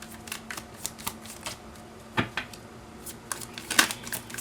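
Tarot cards shuffled by hand in a rapid run of crisp riffles and flicks. A louder snap of cards comes near the end, all close and fairly soft, with no talking.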